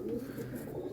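A pigeon held in the hand gives a soft, low, murmuring coo, faint and close, continuous through the short moment.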